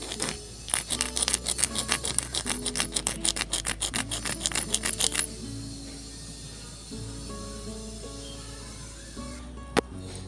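A hard lotus seed is rubbed firmly to scarify it, producing a quick run of rhythmic rasping strokes close by for about five seconds before stopping, with steady music underneath throughout.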